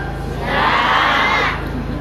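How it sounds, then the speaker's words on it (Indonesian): A crowd at a Sundanese stage gathering roars back a reply to a greeting in one loud collective shout. The shout swells up, holds for about a second, then fades back into a murmuring room. "cobi ngajawab salam sorakna rada tarikan"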